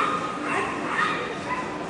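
A small dog yips and whimpers among a bustling crowd at an indoor pet show, with continuous voices and hall noise throughout.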